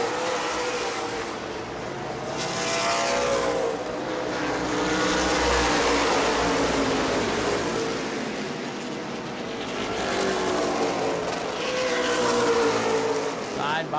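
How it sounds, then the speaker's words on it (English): Race cars roar around the New Smyrna oval during World Series competition, a dense continuous engine drone that swells and recedes as the pack passes, with a commentator talking over it throughout. "But he's coming up on the slow car, the Dalton Simons machine."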